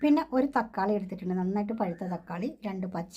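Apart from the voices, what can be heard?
No everyday noises stand out.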